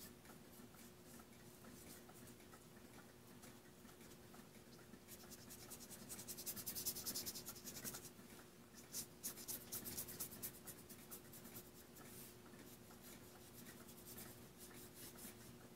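A watercolor marker drawn across the rough side of watercolor paper gives a faint, dry scratching and rubbing, growing busier in the middle with short strokes, close and quiet with no talk.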